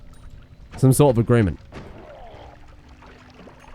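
In the video game Noita, a polymorphine potion pours out as a soft, faint liquid trickle after a short burst of speech, continuing quietly to the end.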